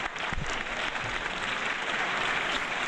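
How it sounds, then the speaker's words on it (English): A room of people clapping steadily for about three seconds, dense and even, with no voices over it. "Let's have an applause"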